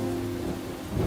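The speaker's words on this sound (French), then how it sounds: "et les rafales de pluie se succédaient" A heavy thunderstorm with pouring rain, a dense steady roar of rainfall under a low rumble of thunder, loud and continuous, used as a sound effect in a French narration of Noah's flood.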